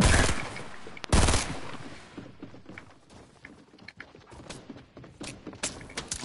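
Bursts of incoming and outgoing gunfire in an online shooter: two sharp, loud blasts open the clip, followed by scattered quieter shots and mechanical clicks and rattles, with only occasional faint speech.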